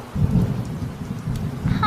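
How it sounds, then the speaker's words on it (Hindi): Heavy cartoon rain pours down with thunder: a dense, steady hiss of rainfall under a low rolling rumble, fairly loud throughout, with a faint high tone at the very end. "बारिश काफ़ी तेज़ है।"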